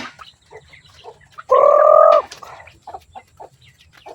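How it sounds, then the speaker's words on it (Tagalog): A single loud, drawn-out squawk from a chicken, with softer scattered clucks and bird calls before and after. "mga manok namin yan guys"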